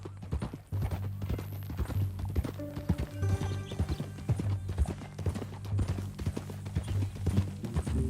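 Steady clip-clop of horse hooves in a regular trotting rhythm in the video game Red Dead Redemption 2, close and clear, with a low droning hum and faint musical tones underneath.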